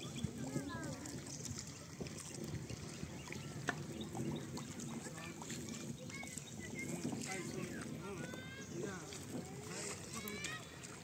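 Wooden boat crossing a river in Bangladesh, with water lapping and splashing against the hull and faint wind, steady and fairly quiet beneath continuous chatter from people aboard.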